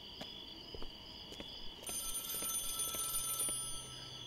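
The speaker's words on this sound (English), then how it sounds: "Phone ringing." A telephone rings in the police border-office game Contraband Police, with repeated electronic ring tones over a faint background hum, soft and somewhat distant.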